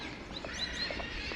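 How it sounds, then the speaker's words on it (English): Birds sing in the open park grounds of Queen's Park Savannah in Port of Spain, Trinidad and Tobago, with faint, scattered chirps and tweets over a steady outdoor background hum. "You can also hear all the birds in the background."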